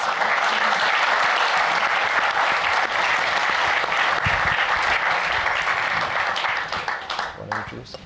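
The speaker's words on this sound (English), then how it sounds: "please give a big round of applause for the panelists" Hearty audience applause for panelists at an infrastructure event, dense continuous clapping that tapers off near the end with a few voices emerging.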